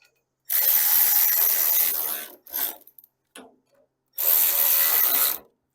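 A ratchet snugs the clutch bolts on a VW Beetle in quick, close clicking bursts: a long run of clicks, two very short flicks, then another long run, with silence between.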